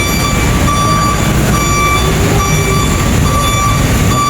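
A large truck backs up, its reversing alarm sounding a steady series of loud, evenly spaced beeps over a constant low engine rumble.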